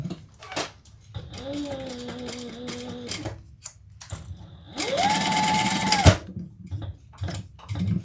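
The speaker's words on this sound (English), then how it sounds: "we're going to sew that together with the seam allowance in the pattern" A sewing machine stitches a bag's lining and exterior together in two bursts, its rapid whirring rising and falling, close by in a quiet room, with a person speaking between runs.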